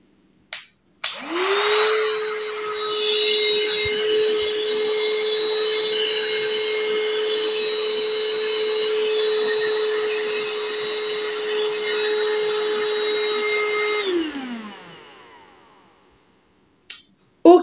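A newly bought budget vacuum cleaner switches on with a click, then runs with a steady, loud motor whine and airy rush for about twelve seconds before winding down and clicking off.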